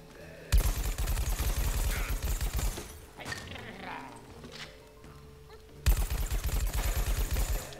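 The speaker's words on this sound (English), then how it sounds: "Ooh, they're all shooting me now. Nope, everyone's shooting me." Rapid bursts of automatic gunfire in the shooter game Plants vs Zombies Garden Warfare 2, loud and close, in two sustained volleys separated by a quieter stretch of other game sounds.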